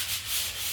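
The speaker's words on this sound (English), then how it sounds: "The wood grain's going this way, so that's the way I'm sanding." Hand sanding of wooden trim along the grain gives a soft, continuous, close abrasive rubbing with a gentle back-and-forth swell in loudness.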